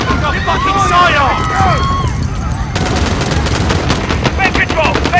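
Loud, continuous automatic gunfire from Call of Duty: Modern Warfare (2019) rattles in rapid bursts amid a chaotic battle scene. Shouting voices and whistling effects sit under the shots, and the firing grows denser toward the end.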